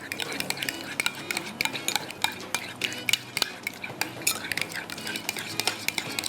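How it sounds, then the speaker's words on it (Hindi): A spoon mixes cream and yogurt with red chili powder in a bowl, giving rapid, irregular clinks and scrapes against the sides, close and fairly quiet, with no voices. "इसको आपने इस तरह से मिक्स कर लेना।"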